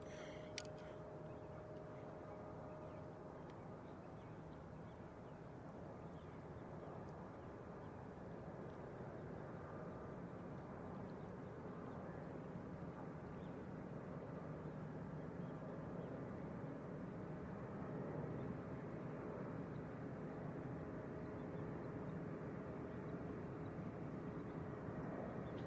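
An Airbus A319 airliner arriving at San Francisco Airport produces a steady, distant jet rumble and whine that holds evenly for the whole stretch, with no talking over it.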